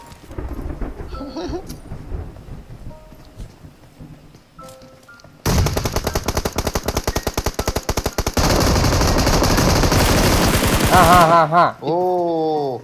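Gunfire in the PUBG Mobile shooter game: a quiet stretch with scattered faint sounds, then loud, rapid machine-gun bursts hammering for several seconds, ending with a few tonal effects.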